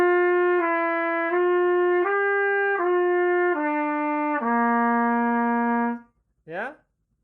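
Trumpet playing a lip flexibility flow study, slurring smoothly between sustained tones in a connected legato line, close and clear, ending on a long held low note followed by a short rising slide.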